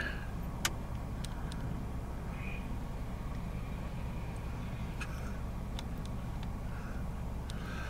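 A pickup truck's engine idles nearby with a steady low rumble, hitched to a trailer, while a few faint clicks and ticks sound over the constant drone.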